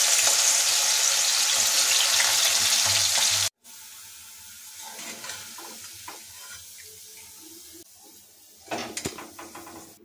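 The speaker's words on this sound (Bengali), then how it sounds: "এভাবে আমরা বাকি আলুগুলোকেও ভেজে নেব" Shredded potatoes fry in hot oil, sizzling loudly and steadily for a few seconds. The hiss then drops to a quieter crackle with scattered clinks of a utensil against the pan.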